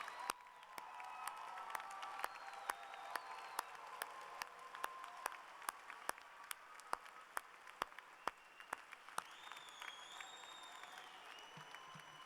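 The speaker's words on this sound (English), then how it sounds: "give a round of applause" A graduation audience at a university political science commencement claps faintly and far off, with sharp isolated claps standing out and a few whistles near the end.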